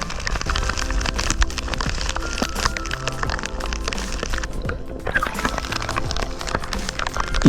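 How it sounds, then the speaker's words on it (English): Rain falls at sea off the Jamaican coast, a dense, loud and continuous hiss of drops spattering across the water and nearby surfaces, steady throughout with no clear voices. "the rain started to fall."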